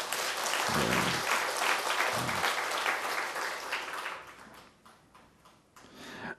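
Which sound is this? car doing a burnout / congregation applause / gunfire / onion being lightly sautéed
congregation applause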